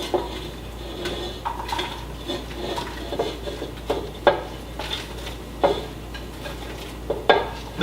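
Onions for French onion soup are stirred in a pan, with a wooden spoon scraping and clattering against the pot at irregular intervals over a faint, steady sizzle.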